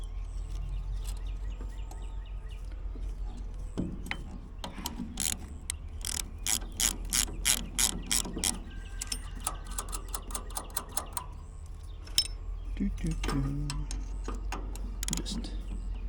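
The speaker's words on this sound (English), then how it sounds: "Just double nutting here to where I can thread it in." Double-nutted bolt being threaded into a hole during farm work, a close ratchet wrench clicking in quick bursts of rapid pawl ticks, pausing between strokes over a steady low hum.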